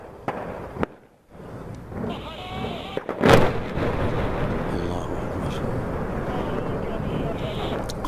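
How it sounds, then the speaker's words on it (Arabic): Barrel bombs dropped from a helicopter explode over Latamneh in the northern Hama countryside: one sharp, heavy blast rings out mid-clip and gives way to a sustained rumble, with voices audible around it. "برميلين متفجرين دفعة واحدة من طائرة مروحية"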